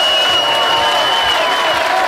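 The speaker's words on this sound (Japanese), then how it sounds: "拍手お願いします。" Audience applause fills a Gran Turismo 6 racing event after a driver's run, a steady wash of clapping from a crowd that holds evenly throughout.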